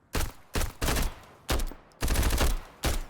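Loud, close bursts of automatic AK rifle fire in the shooter game Road to Vostok, coming in several rapid volleys with brief pauses between them.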